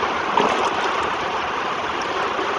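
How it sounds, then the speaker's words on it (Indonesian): Water in a probiotic tank for biofloc tilapia farming is stirred by hand, producing a close, loud churning slosh with small splashes throughout. "Nah, ya, kita aduk dulu pakai tangan."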